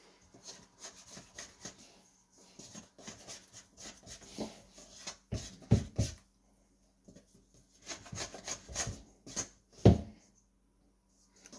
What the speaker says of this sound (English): I'm just going to clean down the edges of the mixing bowl